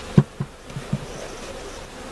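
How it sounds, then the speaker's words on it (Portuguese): Honey bees being shaken off into a hive, a low buzzing drone with a few soft thumps near the start, fairly quiet and with no voices. "Vamos sacudir estas abelhinhas todas"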